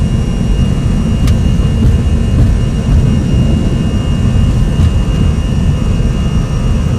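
A Boeing 737 on an SAS Scandinavian flight roars at takeoff thrust, a loud, steady jet-engine rumble and whine heard from inside the cabin with no break.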